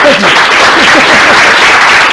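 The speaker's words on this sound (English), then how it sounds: "so anyway, round of applause" Applause fills a research seminar room, loud and close, with a steady spread of clapping and some brief voices and laughter near the start.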